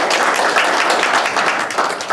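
An audience at a book tour conversation event applauds an introduced guest, a steady wash of clapping from many hands at close range, sustained evenly throughout with no pauses.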